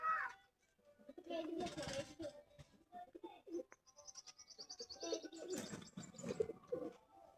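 A Rampuri pigeon coos softly in short bursts, mixed with a few thin chirps, fairly quiet and close, with no clear talking.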